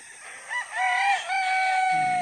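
A rooster crows close by in one long drawn-out call, with faint hens clucking and a steady background hum.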